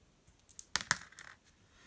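A pair of dice clatters onto a table in a tabletop miniatures game, with a quick run of bright clicks and bounces that peaks in two sharp taps and then settles, close and quiet.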